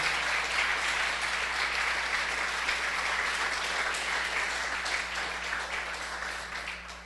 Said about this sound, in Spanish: ¿Cuánto le damos un aplauso bien fuerte al Señor por su misericordia?